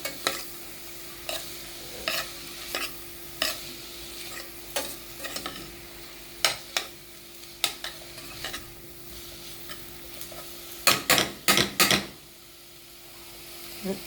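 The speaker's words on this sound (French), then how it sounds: "On laisse revenir les oignons encore un petit moment." Onions frying in a pan for a shrimp and vegetable dish, a steady close sizzle broken by repeated sharp scrapes of a utensil stirring, quickening into a cluster of strokes near the end, with no talk.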